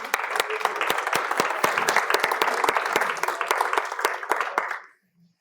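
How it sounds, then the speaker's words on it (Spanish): A church congregation breaks into sustained applause, dense clapping from many hands filling the room at an even level before it fades out abruptly near the end. "Yo aquí daría un aplauso a Dios"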